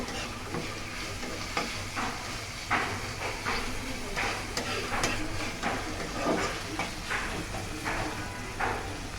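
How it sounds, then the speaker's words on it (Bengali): Creamy homemade pasta stirred in a hot pan, with a steady sizzle and hiss broken by repeated scraping strokes of the spoon against the pan, close and continuous throughout. "নাড়াচাড়া করে নিব"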